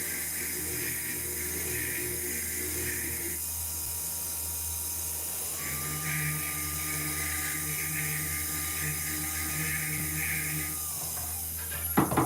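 A rotary tool burr whines steadily while working a 24K pure gold ring during stone setting, a continuous high drill tone with a brief pitch change midway and a short clatter at the end.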